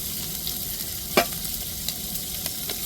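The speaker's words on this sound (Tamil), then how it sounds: "வெங்காயம் நல்லா வதங்கட்டுங்க." Sliced onions sautéing in a pan with salt, giving a steady, close sizzle of frying with an occasional sharp scrape or tap of a stirring spoon, and no voices.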